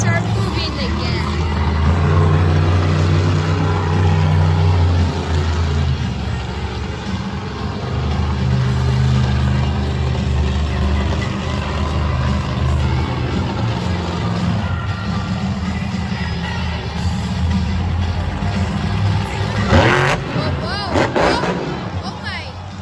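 Monster trucks rumble around a Monster Jam arena, their engines revving and droning steadily with a loud crowd-filled ambience and an announcer's voice over the top.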